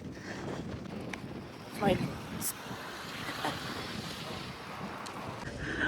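Wind buffeting the microphone outdoors in Canada in low rumbling gusts, with a short spoken word partway through.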